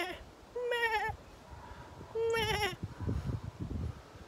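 Two clear goat bleats, close and fairly loud, each a wavering nasal cry, separated by a pause, followed by soft rustling and handling noises.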